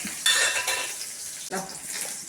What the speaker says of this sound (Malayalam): അത് കഴിഞ്ഞ് നമുക്ക് അത്യാവശ്യം നന്നായിട്ട് വെളിച്ചെണ്ണ ചൂടായി കുറച്ച് നമ്മുടെ ഉള്ളി ഇട്ട് കൊടുക്കാം